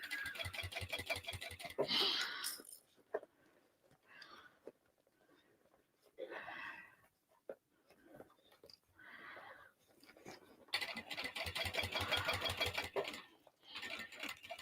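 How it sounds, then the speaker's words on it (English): A sewing machine stitches the seam of a dolly bag in two rapid, close bursts, one at the start and a longer one near the end, with quiet talk and small handling noises in between. "I'm just going to do 1 or 2 back stitches and then end again in that seam"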